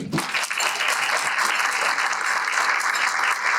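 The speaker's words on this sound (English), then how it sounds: "I just want to give them a quick round of applause." A room of attendees at a congressional breakfast forum gives a quick round of applause for a congresswoman and congressman, dense, even clapping that swells right away and holds loud throughout.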